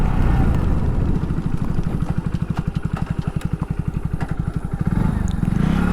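Hero HF 100 motorcycle engine running steadily at low speed with a rapid, even exhaust putter, close and continuous as the bike turns around, without talk.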